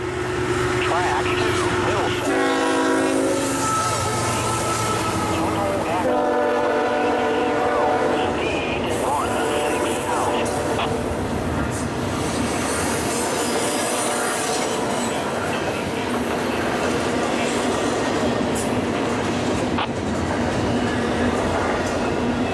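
A Conrail freight train passes at night with a long, loud rumble of wagons and squealing wheels, broken by several blasts of the train horn, as voices talk in the background.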